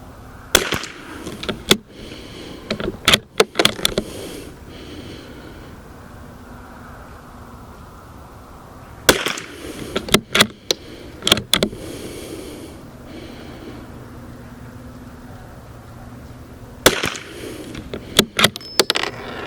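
A .22LR rifle fires a five-shot group with a warm bore, sharp reports arriving in separate clusters several seconds apart over steady outdoor background hiss.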